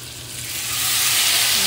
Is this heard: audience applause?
no